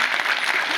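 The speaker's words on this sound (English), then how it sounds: "A massive round of applause, please" A convention crowd at Liverpool Comic Con applauds, a thick, continuous burst of many hands clapping, loud and close in the hall, with no talk over it.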